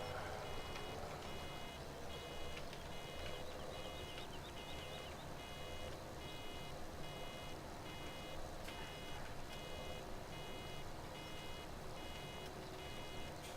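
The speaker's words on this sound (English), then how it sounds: "Oh, the lovely beep of this baler." A baler in the Farming Simulator video game beeps in a steady, regular electronic pattern, repeating about every second over a constant low machine drone, with no talk.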